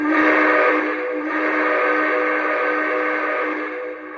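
A loud steam whistle from a Lionel B&O EM1 Yellowstone model locomotive blows one long, continuous chord-like blast that gradually tapers off at the end, with no talking.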